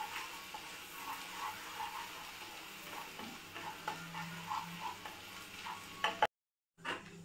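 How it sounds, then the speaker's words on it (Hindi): Onions browning in a pan with steady sizzling and occasional scraping stir strokes, a continuous close frying texture that cuts off abruptly near the end. "अभी हम जो है प्याज को अच्छे से ब्राउन तक भून लेंगे।"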